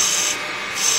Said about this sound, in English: Now we can come in with our parting tool